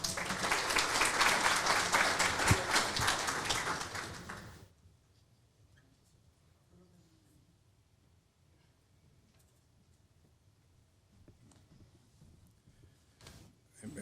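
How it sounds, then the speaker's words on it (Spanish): An audience at an academic conference on international migration breaks into loud, dense applause that lasts about four and a half seconds and then stops abruptly, leaving quiet room tone with faint rustles. "Recibamos al doctor Wilfredo Lozano con un cordial aplauso."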